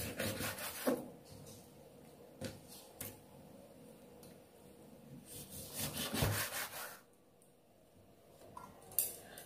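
A knife cuts pork for Vietnamese braised pork with eggs on a wooden cutting board, making a few rasping, sawing strokes in separate bursts between quieter pauses, close and fairly soft.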